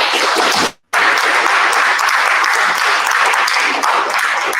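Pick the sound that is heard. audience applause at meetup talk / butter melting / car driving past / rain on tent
audience applause at meetup talk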